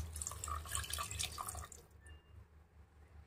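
Warm water pours and splashes into chicken curry cooking in a pot, a steady close trickle that stops abruptly, leaving quiet.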